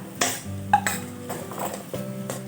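A potato and papad mixture drops into a pan of spices, followed by clinking and scraping of a metal spoon against the pan in short irregular knocks, close and clear with no speech.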